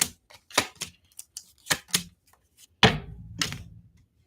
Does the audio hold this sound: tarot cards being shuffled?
yes